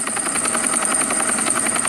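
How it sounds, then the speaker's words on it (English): A large helicopter in a Roblox prison game thrums with a steady rapid rotor chop and a high whine, loud and continuous with no talk over it. "Helicopter. Big helicopter."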